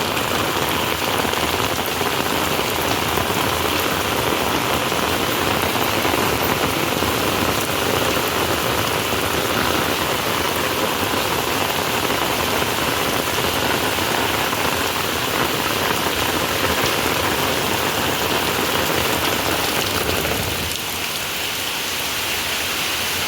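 Heavy, steady monsoon rain pours down continuously on a cattle shed, a dense roar of drops hitting surfaces, easing slightly near the end.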